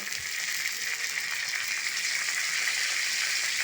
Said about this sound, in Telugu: ఇది బాగా వేగనిస్తాను.